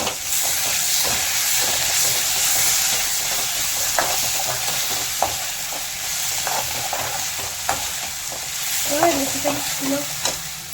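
Ginger garlic paste fries in a pan with a loud, continuous sizzle and hiss, punctuated by scraping stirring strokes throughout.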